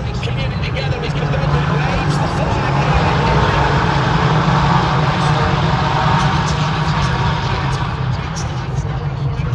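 Race cars at a Michelin Pilot Challenge race at Virginia International Raceway, a loud continuous engine roar from the pack, with a commentator talking over it.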